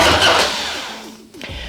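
A carbureted motorcycle engine on a lithium battery cranks over in a cold garage and begins to catch, a whirring starter with uneven firing pulses, close and loud, fading briefly before another surge.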